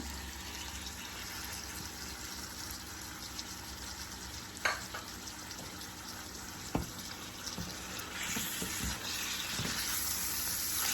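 Onion sizzling in a pan for a coconut chicken curry, a steady broadband frying hiss that runs throughout with a few sharp clanks and stirring knocks, growing slightly louder toward the end.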